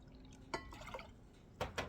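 A cup of water is poured into a pot over vinegar for roasted jalapeno hot sauce. Soft drips and splashes come in a few quiet bursts, close by.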